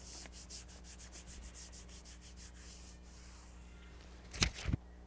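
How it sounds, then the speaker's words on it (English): Hands rubbing Equitape tape onto a horse's neck to activate the adhesive, a soft continuous brushing friction for several seconds, fairly faint, ending in a couple of louder brief scuffs. "I'm going to rub it, which activates the adhesive."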